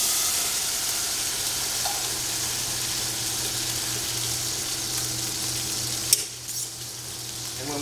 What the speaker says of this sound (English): I'm keeping all the chicken fat that's rendering out, but I'm browning them.